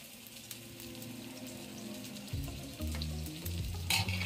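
Ghee sizzling and frying around a semolina and rice breakfast cake in a pan, a steady soft crackle with brief scraping and clinks near the end, no talk.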